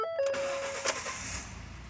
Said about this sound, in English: Then you can start the truck without any problems.